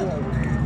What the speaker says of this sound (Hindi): तो यह घोड़ा आ रहा जी